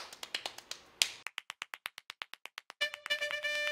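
One person claps hands in a quick run of sharp, close, evenly spaced claps, the rhythm slowing slightly midway; at the end the claps give way to a bright tonal musical sound.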